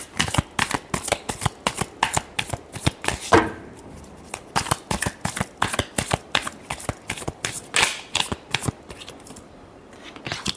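Tarot cards are shuffled with a rapid run of crisp, papery riffle clicks, steady and close, pausing briefly near the middle and again toward the end.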